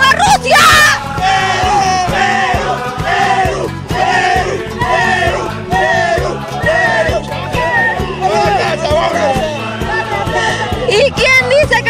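Peruvian football fans in a packed coliseum in Arequipa celebrate World Cup qualification, a loud, dense crowd yelling and chanting rhythmically, with voices shouting close by throughout.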